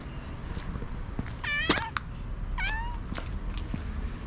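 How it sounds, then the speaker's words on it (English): A small cat meows a few times in quick succession, thin rising-falling cries with short pauses between them, heard close against quiet street background in the old city of Coimbra, Portugal. "Now here we have a little cat."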